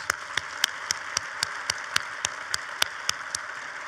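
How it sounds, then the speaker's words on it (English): Audience applause at a mayor's State of the City address comes as steady, evenly spaced claps in a regular rhythm, moderately loud, with no voices over it. "Let's give him a round of applause."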